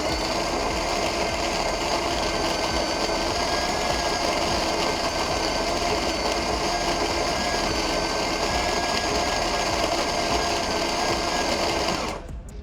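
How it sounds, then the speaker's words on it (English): A La Specialista Touch espresso machine's built-in grinder grinds coffee beans with a loud, steady, close-up mechanical whir that runs unbroken for about twelve seconds before cutting off. "I'm going to click it in to start grinding"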